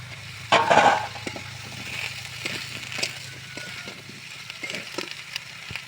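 Chopped vegetables with flour, chilli and coriander powder are stirred in a hot pan, giving a soft, steady sizzle with light scraping and clinks of a utensil. A louder clatter comes early on.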